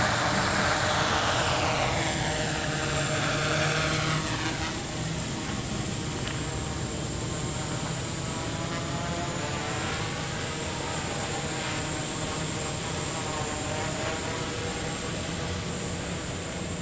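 A small ready-to-fly quadcopter drone hovers steadily close by, its propellers giving a continuous high whine with a steady tonal buzz throughout, no talk.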